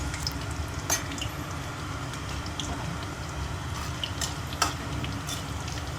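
Onions and tomatoes fry in oil with cinnamon, cloves, cardamom and bay leaf for a paneer and meal-maker biryani, a dense continuous sizzle with occasional clicks of a spoon against the pan.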